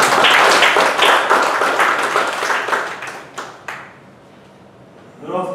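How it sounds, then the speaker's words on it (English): Audience applause at a speaking club meeting, a dense burst of clapping that gradually thins and fades out, leaving near quiet before a voice starts talking. "And he need a special clap."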